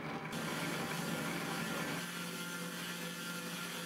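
DIY CNC machine with a 100-watt router motor cutting 4mm poplar sheet, a close, constant whirring and rattling buzz that steps down slightly in tone partway through.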